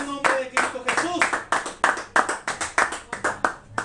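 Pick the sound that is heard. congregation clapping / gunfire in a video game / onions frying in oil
congregation clapping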